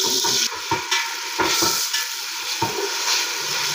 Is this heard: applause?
no